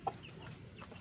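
Rhode Island Red hens and a rooster sit in a simple backyard laying coop. A few soft, brief clucks come faintly from nearby, spread over about a second of quiet farmyard noise.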